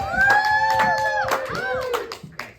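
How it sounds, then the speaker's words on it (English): Audience claps for a guest introduced on a comedy talk show, scattered clapping under a sustained whooping or cheering voice that fades out toward the end. "Please give it a warm round of applause for the amazing, wonderful, and the very impressive and well-dressed Marcus Santi."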